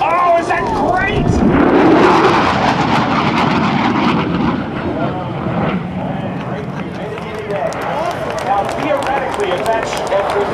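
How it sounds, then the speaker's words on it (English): An F/A-18F Super Hornet jet makes a high-speed pass at an air show open house, a loud roaring rush that swells then fades into a long rumbling tail, with crowd voices and talk over it. "the Super Hornet high-speed pass"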